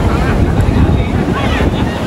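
Ocean waves at Pangandaran beach wash in continuously, their roar partly buried under heavy wind buffeting the microphone.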